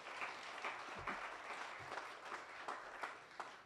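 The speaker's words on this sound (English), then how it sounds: "Let's please give her a hand of applause." Applause from the audience at the official launch of the Region 5 Youth Games in Windhoek, given for a sign language interpreter; steady, moderately faint clapping from a crowd with no voices over it.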